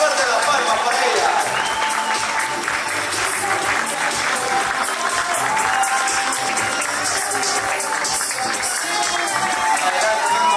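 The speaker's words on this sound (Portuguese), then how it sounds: "Fuerte las palmas para ella" An audience claps steadily for an award recipient at a ceremony, a dense, continuous patter of hands filling the room with a constant level throughout, with an announcer's voice faintly present beneath it.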